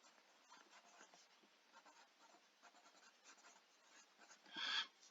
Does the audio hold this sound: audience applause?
no